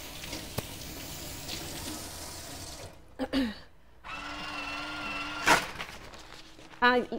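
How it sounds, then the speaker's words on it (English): Tap water runs steadily while hands are washed at a bakery counter, broken by brief gaps and a few clatters and squeaks, close and fairly loud. "Let me wash my hands real fast."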